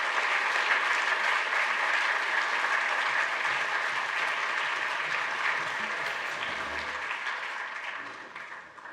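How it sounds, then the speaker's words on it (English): Warm, continuous applause from a seated audience at a science talk, honoring five staff scientists; steady and full for most of the stretch, then thinning and fading near the end without any talking. "can we give one more round of applause to the 5 scientists?"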